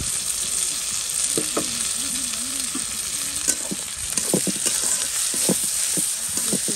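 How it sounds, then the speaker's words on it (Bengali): Spices and salt frying in a pan, a steady bright sizzle running throughout with occasional stirring scrapes and clinks close by, no voices. "এরপর একটু ভাজাভাজি করবো, তারপর হচ্ছে একটু লবণ দিব।"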